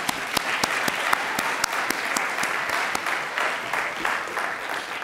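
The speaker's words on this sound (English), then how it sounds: "applaud them and..." Audience applause at a university symposium as staff stand to be recognised, a dense steady clapping from a sizeable crowd with sharp individual claps standing out, filling the whole stretch without speech.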